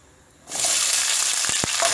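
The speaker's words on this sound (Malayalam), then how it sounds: "ഇപ്പോൾ തീ ഫുൾ ഫ്ലെയിമിലിട്ടിട്ട് നമുക്ക് ഈ ഉരുളക്കിഴങ്ങ് നന്നായിട്ടൊന്ന് വറുത്തെടുക്കണം" Cubed potatoes hit hot oil in a pan over a full flame for a potato capsicum dry curry. A sudden loud, steady sizzle sets in and continues close up, with a few soft clinks.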